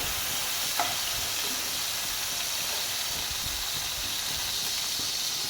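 Prawns fry in oil with a constant, even hiss and sizzle, close and steady throughout, with a faint clink early on.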